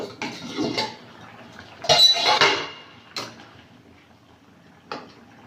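The lid comes off a cooking pot of fish and vegetable sukto in a village kitchen, with close metallic clinks and a short scraping rattle between quieter pauses.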